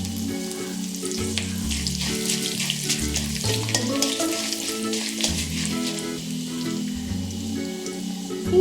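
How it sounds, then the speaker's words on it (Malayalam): Urad dal and halved dried red chillies fry in hot oil for pathila thoran, a steady close crackling sizzle running throughout with no voices, over a low background music bed. "ഉഴുന്നൊന്ന് ചെറുതായിട്ട് മൂത്ത് തുടങ്ങുമ്പോൾ അതിലേക്ക് വറ്റൽമുളക് 2ആയിട്ട് മുറിച്ചത് ഇടാം."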